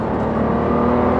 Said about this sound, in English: You just want to play with that exhaust note, just changing up and down.